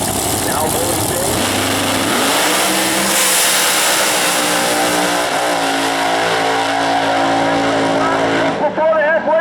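A drag racing car accelerates hard down the track at Mopar Days, a loud and sustained engine roar that climbs in pitch with some tire noise, while an announcer talks over it.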